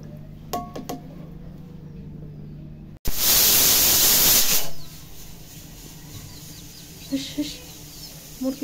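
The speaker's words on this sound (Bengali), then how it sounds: "মুরগি যা" Chickens clucking faintly in short bursts near the start and again toward the end, with a loud rush of noise cutting across the middle on a cloudy, rainy day.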